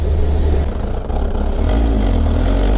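A stock Kawasaki ZR7S motorcycle runs close by with a loud, steady engine note and a constant mechanical rattle from a noisy cam chain.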